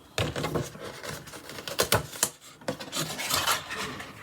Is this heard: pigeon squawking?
no